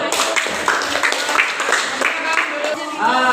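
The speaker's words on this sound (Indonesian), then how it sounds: "kasih tepuk tangan dulu" Group of students clapping together in a classroom, a dense patter of many hands with voices chattering over it.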